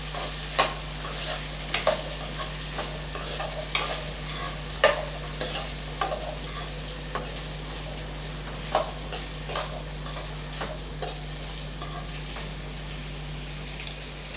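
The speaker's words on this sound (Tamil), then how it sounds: "இப்போ நல்லா ஒரு 2 நிமிஷத்துக்கு நல்லா வதக்கி விட்டுறலாம்." Tomatoes and vegetables sauté in a pan for sambar rice, with regular rhythmic scrapes of a spoon stirring over a constant low sizzle, close and moderately loud throughout.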